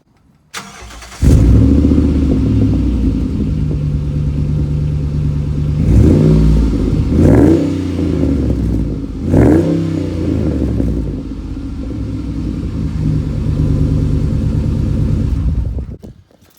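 A 2008 Dodge Dakota pickup truck engine cranks and catches, then idles steadily with several sharp revs in the middle, loud and close, before shutting off.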